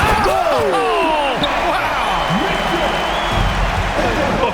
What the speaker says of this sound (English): this crowd is in awe of that Mitchell dunk